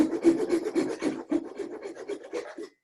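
A hand saw's crosscut side cutting through a small piece of wood for kumiko work, a close run of quick rasping strokes in an even rhythm that ends abruptly.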